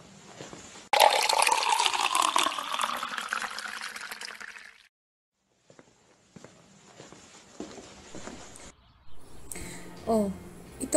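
Water is poured into a drinking glass during a staged church drama performance: a loud, steady rushing pour lasting a few seconds, then a pause and softer trickling and clinks nearby.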